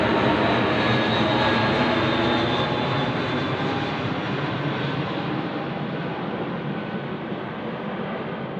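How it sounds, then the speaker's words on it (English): An airplane passes overhead with a broad, steady roar, loud at first and slowly fading as it moves away, with no voices over it. "Another plane is coming."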